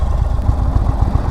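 An Indian Chief Dark Horse motorcycle engine runs close by, a deep rhythmic low throb with steady pulsing firing beats and no talk.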